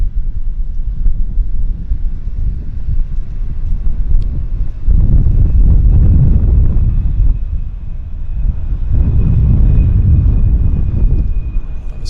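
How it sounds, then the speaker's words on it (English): A Boeing Dreamliner arriving at Vancouver Airport, a deep low engine roar that swells in two broad waves, with gusts of wind buffeting the microphone and a faint steady whine above. "We'll end it on that Dreamliner that's coming in."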